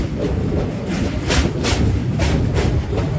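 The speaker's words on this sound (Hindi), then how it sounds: "ब्रिज में जब ट्रेन क्रॉस करता है तो उसका जो आवाज़ है बहुत अच्छा लगता है।" The 13175 Kanchanjunga Express rolls loudly across a railway bridge near Kolkata, heard from on board as a steady rumble with rhythmic clattering thumps from the wheels and track, no voices.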